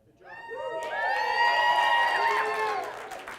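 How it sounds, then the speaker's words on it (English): A room full of magic show spectators yells, screams, whoops and claps as loud as they can. The roar swells quickly and holds steady at close range, with high voices cheering prominently. "everybody here in the room is going to yell, scream, clap, and cheer as loud as they can, just like this"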